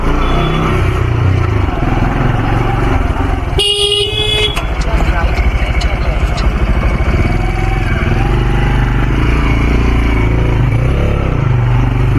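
A motorcycle ridden along roads in Howrah toward a hill, its engine drone steady and loud beneath someone talking, with a sharp vehicle horn honk partway through and a constant roar of passing traffic.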